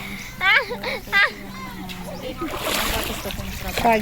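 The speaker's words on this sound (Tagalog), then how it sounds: "Naalala nila yung paliligo dito sa ilog, sa dagat." People swimming and splashing in a river, with water sloshes and splashes under excited voices and children's shouting, nearby and lively throughout.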